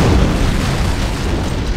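A loud, sustained boom rolls through a ship in Halo, the antimatter charge blast filling the space with dense low rumble for its whole length, with no voices over it.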